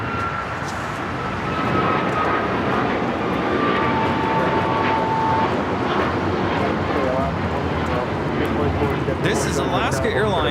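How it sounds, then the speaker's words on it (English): An Alaska Airlines Boeing 737 MAX 9 takes off from LAX, a steady, loud jet roar spreading across the whole clip, with someone speaking over it. "This is Alaska Airlines 1412 taking off to Liberia on the MAX 9"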